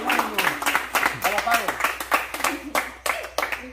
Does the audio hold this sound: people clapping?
yes